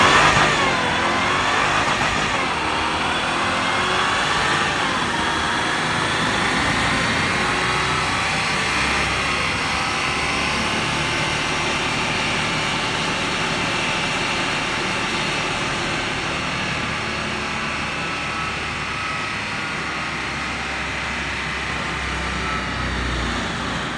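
A Jaguar XJR engine revs hard on a dyno during a full pass from zero, climbing steadily in a long sustained roar, its pitch sweeping upward, loud and close with no talking.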